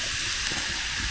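Cut potato chips frying in a hot pot over a campfire in the Norwegian wilderness, giving a steady close hiss of sizzling oil with no talk over it.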